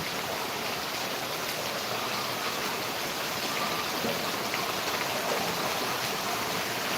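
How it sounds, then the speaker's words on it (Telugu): Steady, dense rainfall hisses continuously and evenly throughout, a heavy downpour with no voices or pauses. "భారీగా వాన"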